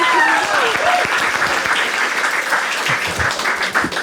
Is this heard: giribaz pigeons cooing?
no